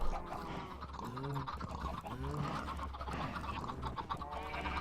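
Several chickens in the Minecraft game cluck and squawk in short repeated calls, close and fairly loud over a steady background hum, with no talking.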